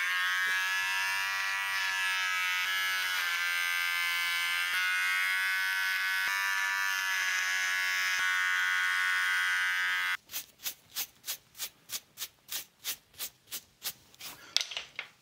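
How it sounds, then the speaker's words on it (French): A cheap AliExpress trimmer fitted with its electric shaver head runs as a steady close buzz for about ten seconds, then breaks into a rapid pulsing series of short bursts as the head is worked through the beard. "je vais utiliser donc la deuxième tête qui est là, la tête de rasoir électrique"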